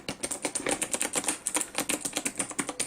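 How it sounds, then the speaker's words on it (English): A Razer BlackWidow Stealth Edition mechanical keyboard is typed on quickly and up close, its clicky keys tapping in a rapid, uneven stream of sharp clacks. "Yeah, clicky keys with optimized tactile feel. What sound a little like this."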